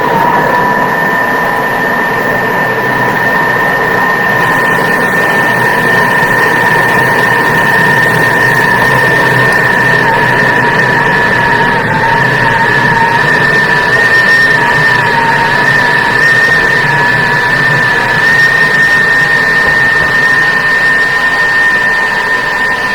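A powerful kitchen machine runs at speed 10, about 10,000 revs, whirring loudly and steadily with a high, constant motor whine that holds unbroken throughout, with no talk over it.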